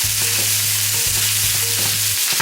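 Chorizo sausage fries in a pan under a loud, dense, continuous sizzle with a low steady hum beneath and a few soft scraping stirs near the end.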